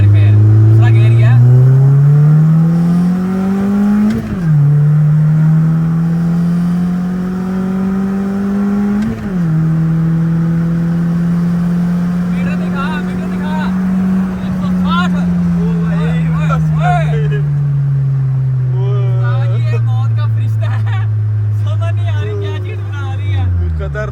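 A Suzuki car engine revs loudly and steadily in second gear while driving, the pitch climbing and dropping with each throttle change as someone talks over it.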